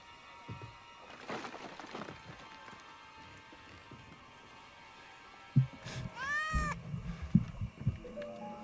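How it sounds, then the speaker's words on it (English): A cat gives a couple of short meows, the clearest one rising and falling, amid soft footsteps and shuffling nearby. "Oh snap, it's the kitty."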